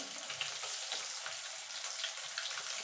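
Eggs fry in a pan with a steady, bright crackling sizzle, dense and even throughout, close and moderately quiet, with small spattering pops and no voices.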